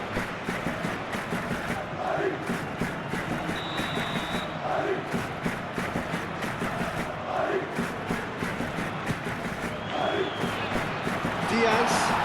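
A dense, steady roar from a football stadium crowd at the Real Madrid vs Bayern Munich Champions League quarter-final, with a few brief whistles rising above the continuous noise.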